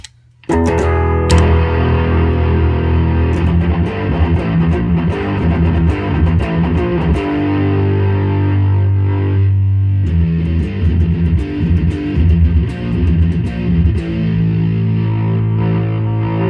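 Electric guitar played through a Master Shredder Doom Beast distortion pedal, heavily saturated chords and riffs ringing out loud and continuous after a brief quiet start, with no voices.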